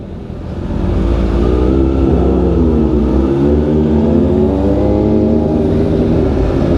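Sports cars and big bikes revving loudly in Binmaley, Pangasinan, a close, sustained engine roar building after a quieter start and holding strong with rising and falling pitch.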